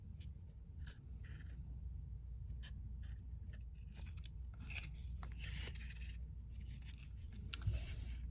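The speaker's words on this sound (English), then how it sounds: "So I've made that line and I'm going to cut that area out." Scissors snip out a craft paper shape in a series of faint, intermittent cuts and rustles over a low background hum.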